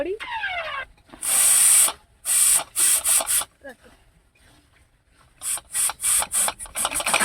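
Water spraying out of a pressure cooker in a home kitchen, loud hissing bursts in short repeated spurts with pauses between, while people talk excitedly nearby.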